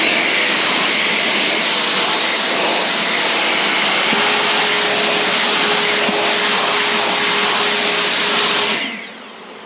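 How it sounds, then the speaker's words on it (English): A garden blower roars steadily and loudly as it blows bees out of a honey box from a beehive, with a shifting whine that cuts off and fades near the end. "So we're going to turn this box up. And we're just going to blow that."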